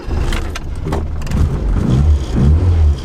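A Mini car engine fires up and revs once warmed to temperature, close and loud, with rising rumbling bursts toward the end.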